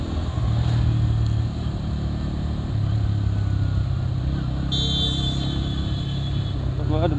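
A P150 motorcycle is being ridden, its engine a low, steady drone with faint wind noise, while the rider talks over it throughout.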